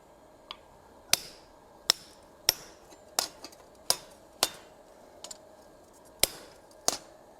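Hammer blows on hot steel over an anvil while punching a slug out of a garden hose hook, about ten sharp ringing metallic strikes at uneven intervals, close and loud with no talking.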